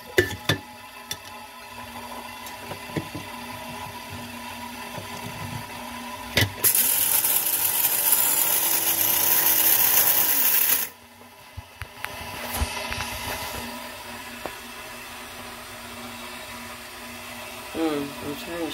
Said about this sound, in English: now I'm going to grind these in my coffee grinder.